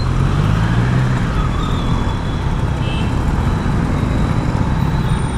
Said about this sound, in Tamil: ஸோ பயங்கரமான டிராஃபிக்கில் வந்துட்டேன்.